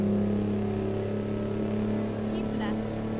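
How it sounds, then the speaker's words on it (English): A Kenworth W900 with a 700-horsepower engine in American Truck Simulator gives a steady, droning diesel hum with strong low harmonics at moderate level, and a short faint electronic chirp comes in late. "that 700 horsepower engine had a pretty good rev range too"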